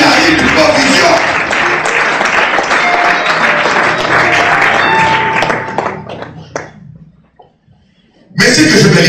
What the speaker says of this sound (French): Applaudissez un peu Jéhovah